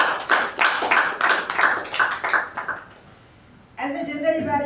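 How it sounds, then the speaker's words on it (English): Applause at a small club meeting, roughly a dozen distinct, evenly spaced claps from a few people, close and crisp, fading out before a voice starts talking at the end. "Big round of applause."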